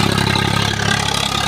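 A Swaraj 742 FE tractor engine runs steadily while working a rotavator in a field, a loud, close diesel throb with a fast regular pulse and no talk over it.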